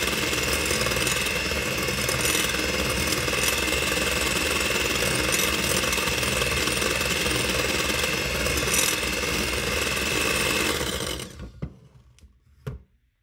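An electric mixer whirs steadily while beating egg whites for a soft Swiss roll cake batter, a loud, continuous mechanical drone that runs unbroken for about eleven seconds before cutting off, followed by a few faint clicks and knocks.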